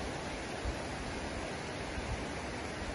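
A river runs steadily past in the countryside, a constant soft broadband rush of flowing water, faint and even, with no voices.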